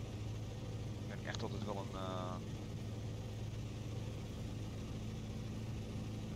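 A Bf108 Taifun with an inverted V6 engine in Microsoft Flight Simulator drones steadily and evenly throughout, a low constant hum with a person speaking Dutch over it.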